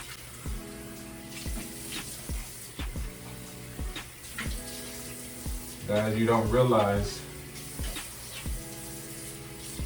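Running water rinses a beard with cold water, a steady wash with clicks and short splashes while someone talks over it.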